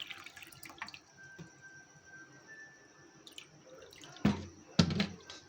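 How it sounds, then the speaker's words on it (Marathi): A glass of water poured onto sugar in a pan for sweet papdi: two short, splashing gushes near the end, after a long stretch of quiet room sound with a faint steady whine. "आणि 1 ग्लास पाणी"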